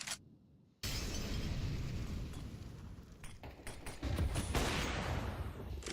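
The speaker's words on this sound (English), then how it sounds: "Nade thrown by Smuya as well" A grenade goes off during a competitive video game match: a sudden loud burst opens into a sustained dense rumble of blasts and crackling gunfire, heard close and continuous.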